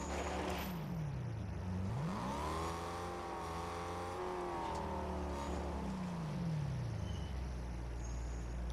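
Car engine in the Fortnite video game drones steadily, its pitch dipping and then rising into a sustained revving whine as the vehicle accelerates, loud and continuous with no talk.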